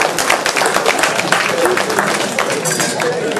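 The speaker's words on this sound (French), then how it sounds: "j'aimerais vraiment qu'on les applaudisse" An audience at a b-boy trophy ceremony claps and cheers, dense rapid hand claps blending with crowd noise at close range, steady and loud throughout.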